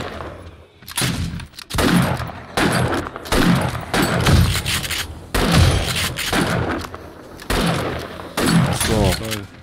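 Gunfire in the zombie survival game 7 Days to Die during a blood moon horde night, with repeated loud shots and bursts spread across the clip and someone talking between them.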